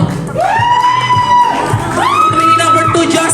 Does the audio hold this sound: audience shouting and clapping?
yes